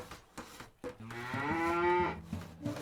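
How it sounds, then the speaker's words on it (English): Cattle mooing in the medieval strategy game Crusader Knights Templars, one long drawn-out bellow rising and holding in the middle, clear and close with a few soft thumps around it. "Some cows."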